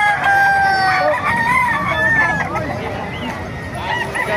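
Roosters crow loudly among many chickens at a bustling market in Bocaue, Bulacan, with a crowd murmuring and someone talking over the birds.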